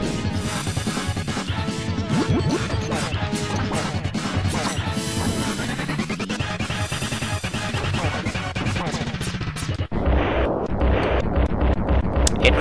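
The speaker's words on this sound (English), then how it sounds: "And Krang is now dead, like everyone else, because explosions, man" Explosions in the video game TMNT 4: a continuous dense barrage of crashing, booming blasts mixed with game music, loud throughout, breaking into a fresh burst of rumbling debris near the end.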